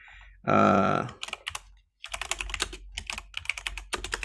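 Quick bursts of keystrokes on a computer keyboard, irregular clusters of close, crisp clicks following a brief low thump at the start.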